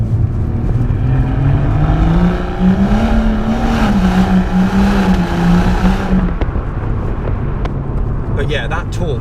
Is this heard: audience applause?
no